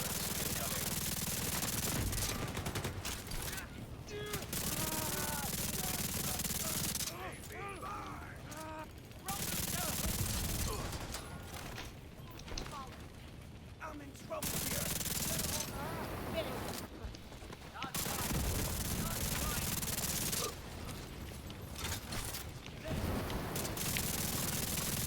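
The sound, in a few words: light machine gun (LMG) fire in a video game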